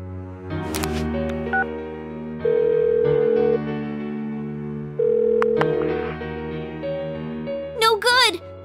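A phone rings unanswered in Persona 4 Golden: steady two-part electronic rings recur at regular intervals over a low background drone, with short chirps between them.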